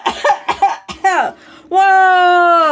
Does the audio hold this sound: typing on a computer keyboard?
no